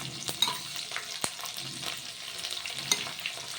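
Potatoes drop into hot oil tempered with asafoetida and spices for aloo matar, crackling in a brisk, close sizzle punctuated by sharp spatters and stirring scrapes.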